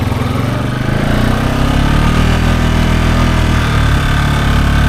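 A Honda Foreman ATV engine runs in first gear with four-wheel drive engaged and makes a loud, steady, close-up chugging drone. It holds even throughout, with no talk over it.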